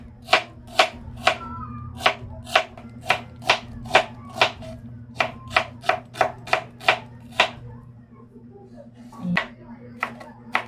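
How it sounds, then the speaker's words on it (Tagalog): Knife chopping onion, garlic and chili on a board, about twenty crisp evenly spaced strokes close up, a steady low hum underneath and a short pause before a few final cuts. "Maghihiwa lang po tayo dito ng onion, garlic at saka itong ating siling at salo."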